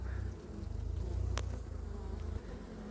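A low, continuous hum of honeybees buzzing close by at an open hive, steady and droning for the whole stretch with no voices.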